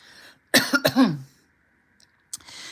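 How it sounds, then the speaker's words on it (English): A man clears his throat twice in quick, harsh bursts, close and loud, followed by quiet and a faint rustle at the end. "They both woke at the sound of a man clearing his throat."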